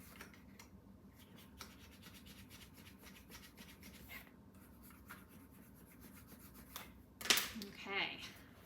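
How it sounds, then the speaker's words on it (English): Paper album pages for an 8x8 baby album are burnished by hand with repeated soft, dry rubbing strokes up close, then a louder scrape near the end. "So I can burnish from the outside"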